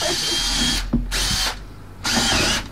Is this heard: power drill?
yes